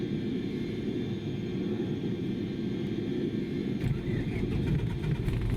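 A Cessna 152 piston engine in Microsoft Flight Simulator 2020 cranks and catches, settling into a steady, loud low rumble that runs throughout, with a slight change in texture near the end.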